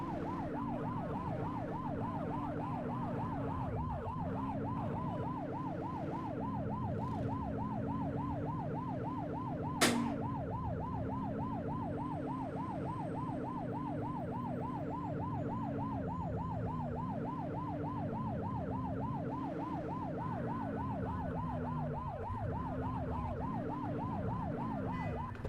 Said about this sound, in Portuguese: sirene ligado porque eu tô com preso aqui